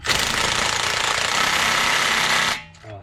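An impact wrench set to gear 3 rattles loudly and continuously for about two and a half seconds during a Toyota Kluger 2018 service, then cuts off abruptly with a faint whir after.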